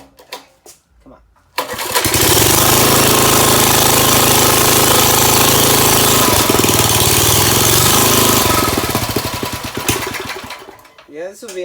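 A 1974 Ford rototiller's small engine catches and runs loud and steady for about eight seconds with a harsh, rattling idle, then winds down, with brief mechanical clatter before and after.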